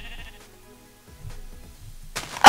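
A sheep in a video game gives a short bleat near the start, followed by quiet low game rumbles and a sudden loud burst of noise at the very end.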